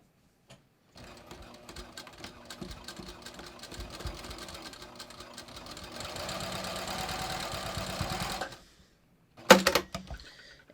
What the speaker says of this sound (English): I'm just going to sew it where my pins were.